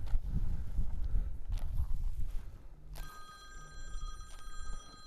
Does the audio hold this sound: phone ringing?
yes